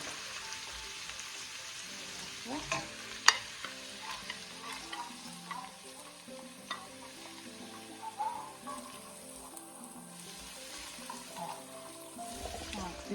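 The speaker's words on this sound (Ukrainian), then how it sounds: "Розпалюю олію рослинну. Кидаємо сюди спочатку. Сюди морку." Carrots frying in heated vegetable oil in a pan for a chicken and vegetable risotto, a soft steady sizzle with occasional light clicks and stirring taps throughout.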